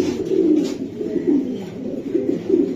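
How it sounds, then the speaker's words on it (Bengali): A foreign-bred racing pigeon coos nearby in low, throaty, repeated rolling calls with no talking. "বিদেশি কবুতর।"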